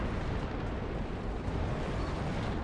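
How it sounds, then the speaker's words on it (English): Napalm bombs from a bombing run in WARNO detonate as a continuous, loud roar of fiery explosions, dense low rumble with no gaps or talk. "I don't think I've seen a better napalm bombing run than that"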